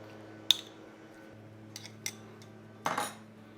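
A spoon clinks and scrapes against a pot while a jaggery and gond laddu mixture is stirred, giving a few sharp taps spread apart and a brief burst of scraping near the end, over a faint steady hum.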